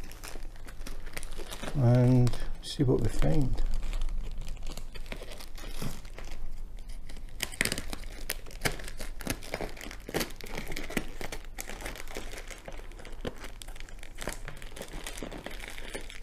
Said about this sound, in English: cut the package open